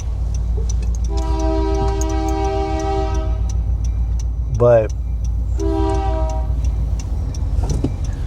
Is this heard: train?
yes